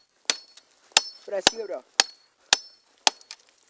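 Machete striking wood at a rock campsite while gathering firewood, six sharp, evenly spaced blows ringing close, with someone talking briefly between strikes.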